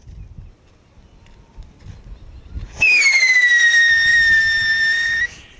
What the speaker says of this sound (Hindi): ये रखा हमने व्हिसलिंग रॉकेट, देखते हैं ये कैसा चलता है और किस टाइप की व्हिसलिंग सुनने को मिलती है इसके अंदर